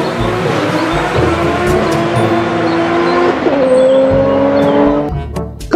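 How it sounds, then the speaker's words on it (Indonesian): A toy race car gives off a continuous engine-like drone with shifting tonal whines. It runs loud and steady throughout, and a few sharp clicks break through near the end. "Yang ini ada mobil balap."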